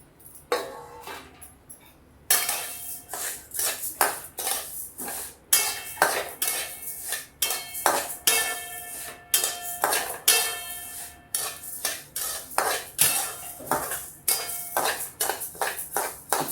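Coriander, fennel and cumin seeds being dry roasted in a pan, with a steady run of sharp metallic clinks and scrapes as a spoon stirs them against the pan, close and fairly loud, in a regular rhythm about once a second.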